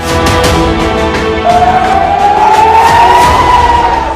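A siren sounds at night in Jammu amid India–Pakistan strikes. Its loud, near wail rises steadily in pitch over a constant rumbling background.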